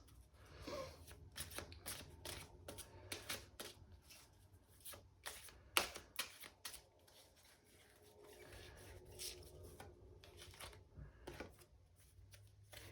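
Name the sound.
shuffling oracle cards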